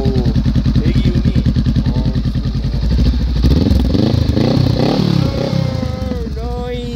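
A 2019 Honda Rebel 500 motorcycle engine runs nearby, its steady rapid chugging firing pulse rising into a louder rev and holding there, with people talking over it.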